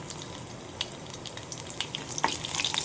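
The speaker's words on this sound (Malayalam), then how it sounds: "ഇതിലേക്ക് നമുക്ക് വെളുത്തുള്ളി ഇടാം." Garlic dropped into hot oil with popped mustard seeds on low heat, giving a steady close sizzle with scattered crackles that grows louder toward the end.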